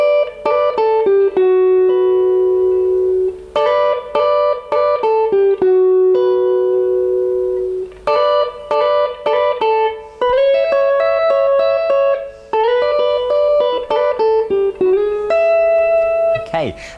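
Electric guitar playing the lead part from a song heard over the chorus, loud clean phrases of picked notes and short slides repeating in rhythmic groups with brief gaps between phrases, no talking.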